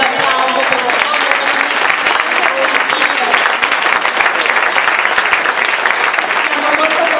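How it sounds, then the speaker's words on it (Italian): Sustained applause from a crowd at a mayor's speech event, dense steady clapping at even loudness throughout, with no pauses. "io vorrei un applauso per Secondo."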